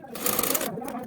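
A sewing machine runs a straight seam along a blouse button strip, a quick, soft whirring burst of needle strokes lasting about a second at close range.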